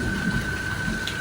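Steady rain falls outdoors around someone walking in it, a constant close wash of patter with a thin tonal hum running underneath throughout.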